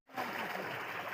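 A cow drinking from water at a farm makes a brief, close splashing and sloshing sound that starts abruptly and continues steadily for about a second.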